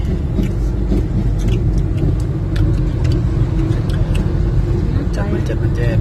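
Cars and a bus crawl through a road traffic jam on the holiday trip to Padang in 2022, their engines a steady low rumble close by, with muffled voices underneath.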